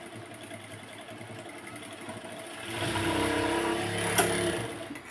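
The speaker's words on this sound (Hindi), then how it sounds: "इस तरह हम सिलाई स्टार्ट कर देंगे लगाना।" A sewing machine stitches a pocket onto palazzo pants, its motor whirring at a steady hum that speeds up and grows louder partway through, with no talking.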